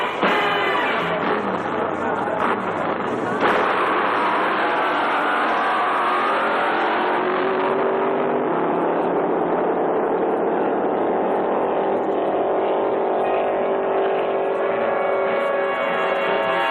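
A dragster race car engine roars loud and close, its rough, revving snarl holding steady and then settling into a lower, sustained drone.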